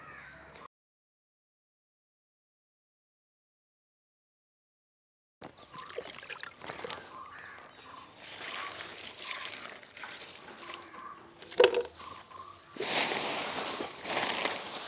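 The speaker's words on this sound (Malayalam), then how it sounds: "നമുക്ക് വീണ്ടും കുറച്ച് കഞ്ഞിവെള്ളം നമുക്ക് ഒഴിച്ചിട്ട് ബാക്കി കരിയില നമുക്ക് ഫില്ല് ചെയ്യാം" Fermented rice water trickles and splashes onto dry leaves layered in a sack for home compost, starting after a long silence, with intermittent pouring, rustling and a louder gush near the end.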